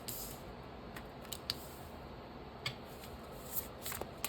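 Tarot cards shuffled by hand, a faint, steady papery riffle with occasional sharper snaps and taps, close and quiet with no talking.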